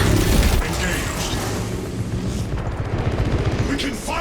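Rapid rattling gunfire from a gun strike in a video game, with deep booming impacts, a dense continuous barrage of loud shots and mechanical clatter.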